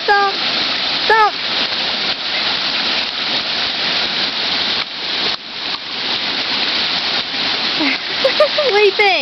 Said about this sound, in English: Rain, rain. Hey, go splash in that puddle.